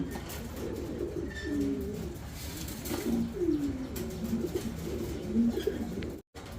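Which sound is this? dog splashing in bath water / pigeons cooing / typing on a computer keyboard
pigeons cooing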